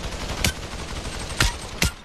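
Three sharp, loud gunshots from a gun in the VR game Population One ring out alone, spaced irregularly with a short gap before the last two.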